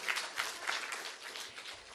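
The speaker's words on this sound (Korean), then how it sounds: "서로에게 박수 한번 하도록 하겠습니다" A brief burst of applause from a church group, steady clapping filling the whole moment at moderate volume.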